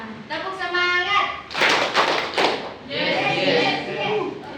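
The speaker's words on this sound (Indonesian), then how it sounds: "Tepuk semangatnya itu tepuknya 3 kali, yes 2 kali." A classroom of students claps a rhythmic spirit clap, three claps then two, the sharp bursts mixed with loud voices and chatter throughout.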